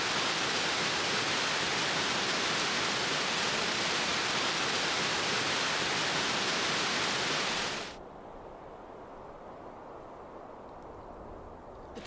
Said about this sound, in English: this is the creek and it looks very full